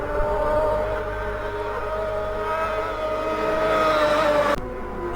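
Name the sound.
racing motorcycles flat out in the Manx Grand Prix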